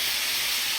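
A loud, steady sizzling hiss from a ground ginger and garlic spice paste hitting hot oil in a pan of frying chicken and potatoes, heard close up and continuous.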